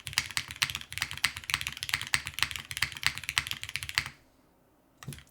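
Quick runs of keypresses on a custom Rin60 mechanical keyboard, close and crisp, typing continuously for about four seconds, then a short silence before a final few keystrokes.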